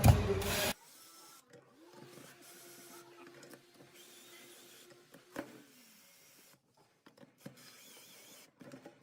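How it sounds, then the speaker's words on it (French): Six small screws come out of a lift pump's cover in short, faint whirring and scraping bursts in a quiet room, after a loud knock at the start. "Ensuite, on attaque concrètement le démontage des 6 vis."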